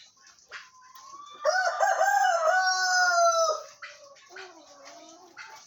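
A rooster on a farm crows loudly and close by, one long drawn-out call, with other chickens clucking and squawking around it before and after.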